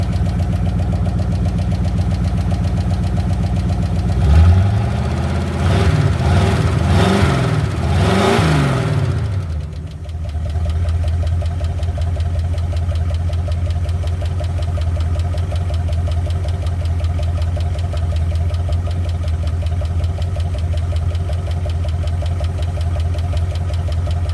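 A car engine idles with a deep, loud exhaust rumble, then revs up hard several times in rising surges before dropping back to a steady throaty idle.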